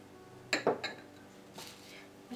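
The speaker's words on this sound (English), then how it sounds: "Mix it well so that there are no lumps." A spoon knocks against a bowl while curd marinade for paneer tikka is stirred, giving a few sharp clinks and scrapes near the start and softer scraping afterward, close and fairly quiet.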